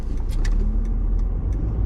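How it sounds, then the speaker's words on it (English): A car drives through the streets of Paterson, New Jersey, recorded from inside the cabin, with a steady loud engine and road rumble and a few faint higher ticks over it. "I'm just driving around Paterson with the GoPro with you guys in the car."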